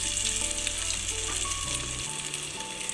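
Sweet corn vadas, bound with gram flour batter, sizzle and fry steadily in hot oil, a continuous close crackling bubbling with no voices over it.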